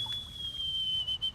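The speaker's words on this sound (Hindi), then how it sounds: "सीटी बजाता है।" In a cartoon scene by a water tank with a big motor-like fan, a thin, high whistle holds steady and fairly quiet across the moment, over a low watery rumble and no talk.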